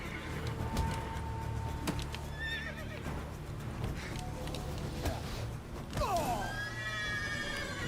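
A horse in The Witcher 3 video game whinnies over a steady game soundscape, with a louder neigh near the end and clip-clop hooves in the background.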